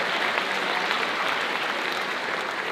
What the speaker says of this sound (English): another round of applause for Jamie